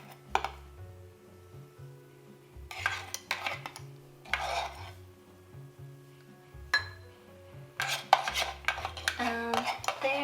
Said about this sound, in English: Now you can scoop your foam and top your cappuccino with it.